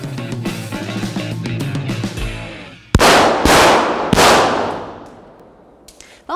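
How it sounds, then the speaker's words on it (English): Gunfire at an indoor shooting range, three loud sharp reports with echoing reverberation after a stretch of muffled rhythmic sound, then a fainter pop at the end. "this is a hot range, so when you walk in, you should expect people to be shooting"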